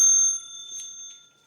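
An antique clock with a 1904 movement strikes its bell once, a single bright metallic ding that rings clearly and decays over about a second.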